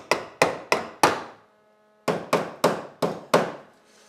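A hammer taps a VW Beetle body panel into place against the bottom of the heater channel during a weld repair: four sharp, close metallic knocks, a short pause, then five more at a steady rhythm.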